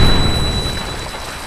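A Minecraft explosive goes off in a single loud, close boom that dies away over about a second and a half, with no voices over it.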